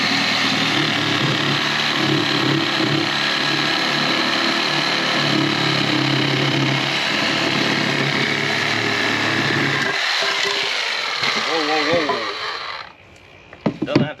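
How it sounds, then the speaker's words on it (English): A Sawzall reciprocating saw cutting through a screw in a garden setting, with a steady high buzzing motor that runs for about ten seconds, then stops. Some rattling handling noise follows. "I'm just gonna use this Sawzall, and it should go right through."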